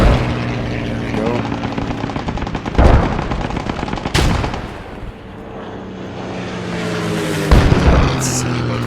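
German armor firing in the World War II shooter Post Scriptum, with several loud sharp cannon or gun blasts spaced through the clip over a rumbling engine and battlefield background; a voice speaks now and then.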